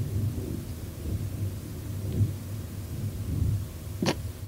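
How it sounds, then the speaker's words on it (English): A long, low thunder roll rumbles steadily for several seconds over rain in a storm, with a brief sharper crackle near the end and no voices. "Was that like a 5-second thunder roll?"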